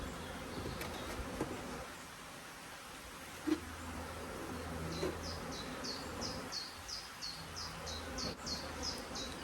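Honey bees buzz around a hive box outdoors, a constant close hum with a few louder passes and a rising buzzing line near the end.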